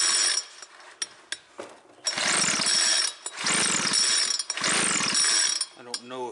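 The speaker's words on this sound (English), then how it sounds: "So we're going to go ahead and give it a pull." The recoil starter rope on a cheap two-stroke leaf blower bought at a garage sale is yanked in three long, loud, close pulls with whirring pawl and spinning-engine noise, and the engine does not start; brief clicks and handling sounds come between the pulls.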